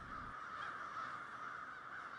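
Crows caw together at an evening roost in trees above a city boulevard in Pittsburgh's Hill District, a dense, distant chorus heard faintly against a constant wash of background noise.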